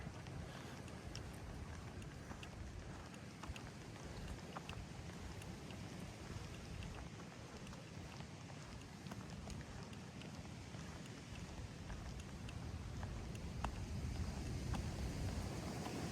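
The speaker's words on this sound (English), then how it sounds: "Windy." Steady broadband wind roar buffeting outdoors on a mountain trail between Wayah Gap and Burning Town Gap on the Appalachian Trail, continuous and fairly loud for the whole stretch, with a slight rise near the end and no voices.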